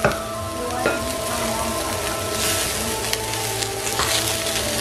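Cauliflower tossed and stir-fried in a pan, like fried rice, giving a steady close sizzle with repeated scraping and tossing noises and a few sharper clatters, no voices.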